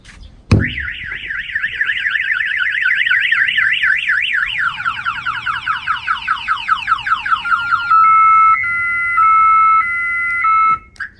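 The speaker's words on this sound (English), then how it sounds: "the alarm will fire off" A Ford F-150 pickup's alarm blares loudly, cycling through rapid warbling tones, then fast chirps, then steady pulsing beeps before cutting off abruptly.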